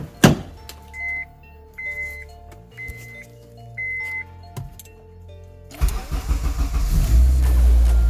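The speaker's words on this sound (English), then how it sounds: "So it's gonna turn on the car to make sure that everything is fine." An Acura RSX engine cranks and starts after a few quiet clicks and chimes, then settles into a loud, close, rumbling idle.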